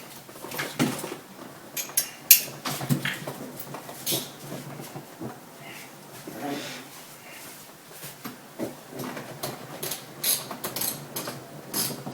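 Metallic ratcheting clicks and clanks come in irregular bursts as a hex bolt is tightened while fitting the seat on a 1965 Mustang during restoration, close and fairly loud.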